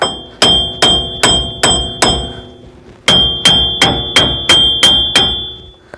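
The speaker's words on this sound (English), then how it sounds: "Just give it a couple smacks." A hammer strikes repeatedly to knock a Ford Ranger hub bearing loose, about a dozen loud, close metallic blows with a ringing tone, in two quick rhythmic runs split by a short pause.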